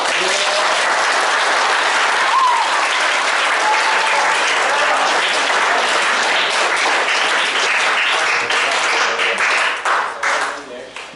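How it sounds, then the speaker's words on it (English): An audience gives a round of applause for scouts at a Boy Scout troop Court of Honor, loud continuous clapping filling the room for about ten seconds before tapering off at the end. "Let's give these scouts a round of applause."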